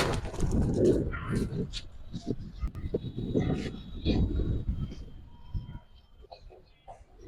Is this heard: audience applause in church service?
no